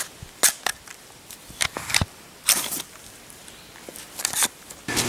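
Glock pistol fired repeatedly with a heavily wax-coated slide, sharp loud cracks in irregular bursts of about seven or eight shots, each ringing briefly outdoors with no talk.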